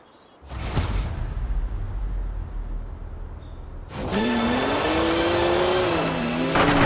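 A BMW 1M in Forza Horizon 4 roars past loudly, then its engine revs and climbs through gears with a steady rising whine, close and continuous to the end.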